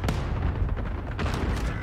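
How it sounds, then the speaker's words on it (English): Airstrike explosions in Call of Duty: Warzone land as several sharp, fairly quiet blasts over a rumbling battlefield background, with distinct hits near the start and again toward the end. "Oh fuck, they've dropped a thing on you. Yeah, that's an airstrike."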